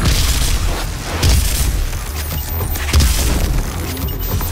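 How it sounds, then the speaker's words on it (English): Malfunctioning Gauss Cannon in a video game firing in a run of loud, heavy booms and crunching blasts over constant dense game noise. "Gauss Cannon. This will save me! Oh, it's all malfunctioning."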